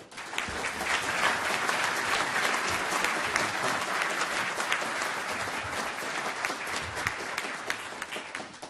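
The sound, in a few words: audience applause welcoming Secretary Aldona Voss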